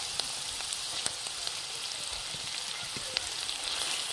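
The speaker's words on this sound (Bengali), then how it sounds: "এরপর আমি আদা, লঙ্কা আর রসুন বাটাটা দিয়ে দিচ্ছি" Ginger, chili and garlic paste sizzles steadily in a hot pan, a close, continuous hiss with a few small pops and spatters throughout.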